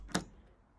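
A center punch strikes metal once while marking drill holes for a multi-strand copper wire bracelet, a single faint, sharp tap that fades quickly into quiet.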